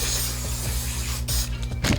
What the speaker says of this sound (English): I'm going to take this heat defense spray by the generic brand